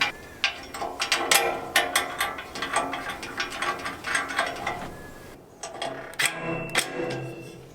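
Screws for a Pit Boss Austin XL 1000 pellet grill lid handle are driven with a ratcheting tool, quick clicking ratchet bursts in steady runs, a short pause, then more clicking up close.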